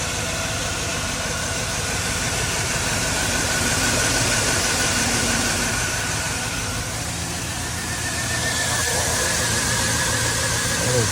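A car engine runs steadily and fairly loud throughout, a continuous broadband rumble with no clear breaks, on a vehicle with its VATS deleted.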